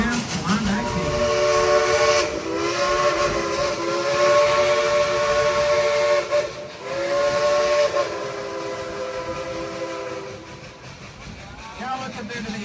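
Steam whistle of Engine 192, the Klondike King locomotive at Dollywood, sounding in several long loud sustained blasts with brief dips between them, a bright multi-tone wail over hiss.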